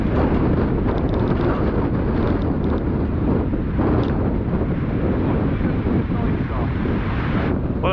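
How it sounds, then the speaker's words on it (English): Strong winds gusting over 50 mph batter a winter camp. The roar is loud and continuous, buffeting the microphone with heavy rumble for the whole stretch and no letup. "It's about, well, it's over 50-mile-an-hour winds now."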